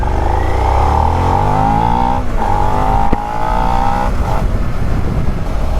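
A Suzuki SV650 motorcycle engine while riding: a loud, close, steady engine drone holding a sustained pitch, with brief dips as the throttle shifts.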